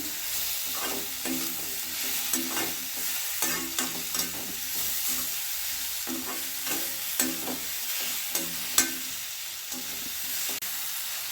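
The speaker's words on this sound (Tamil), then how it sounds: "மீடியம் ஃப்ளேம்லேயே வச்சு வதக்கிக்கிறங்க. நல்லா வதங்கிடும்." Brinjal sautés in a pan over medium flame, giving a continuous sizzle with repeated scraping and tapping stirring strokes, fairly close and steady, with no talking.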